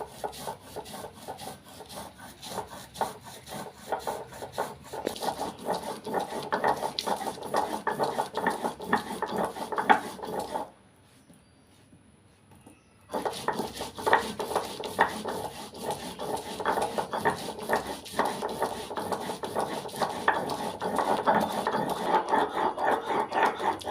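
Mustard seeds, poppy seeds and green chillies being ground into a paste on a stone slab with a stone pestle, a steady rough scraping and rubbing that runs continuously, pauses briefly, then resumes at the same close, even pace.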